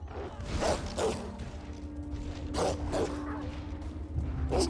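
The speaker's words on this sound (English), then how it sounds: "Dogs are barking." Dogs bark in Elder Scrolls Online, Summerset, a few sharp bursts repeating over a steady game ambience with low rumble and a sustained tone, moderately loud.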